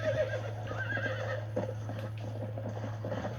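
A horse whinnies loudly in a Western-style video game set in Mexico, with a long wavering neigh, clip-clop hoofbeats and a steady low hum running underneath.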